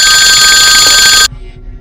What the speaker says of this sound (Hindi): फोन बजा, फोन बजा, फोन बजा